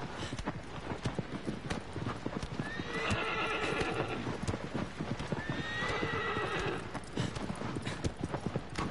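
A horse in the video game Shadow of the Colossus gallops with rapid rhythmic clip-clop hoofbeats throughout and lets out two clear neighs in the middle, fairly close and loud.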